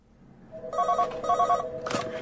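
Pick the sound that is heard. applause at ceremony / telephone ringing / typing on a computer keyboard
telephone ringing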